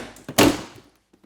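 Porsche 911 door panel, 2005-2012 model, pulled hard off its retaining clips: a sharp thunk and pop of plastic releasing, with a brief rustle before and a faint click after.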